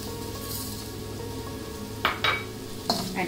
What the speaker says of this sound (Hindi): अब इसको मैं सुनहरा ब्राउन होने तक इसको मैं भूनूंगी, तभी इसमें टेस्ट आएगा।